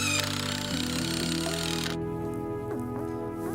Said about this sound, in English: Go ahead and put a screw in there.